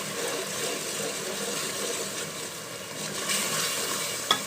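Salt, chili, turmeric and dry spices with gravy sauté in a pan for white chickpeas, making a continuous soft sizzle and bubbling hiss, with one brief clink near the end.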